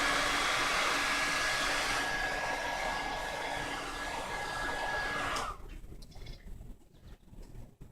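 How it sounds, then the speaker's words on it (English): Hair dryer blowing on a weave hairpiece: a steady loud whooshing roar with a faint high whine that cuts off after about five seconds, leaving quiet room noise. "Bring the dryer up."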